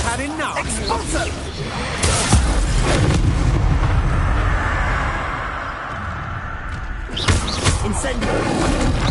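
An Expulsor spell in Hogwarts Legacy bursts into a heavy, rumbling explosion that swells and fades over several seconds, with a voice and other combat sounds around it.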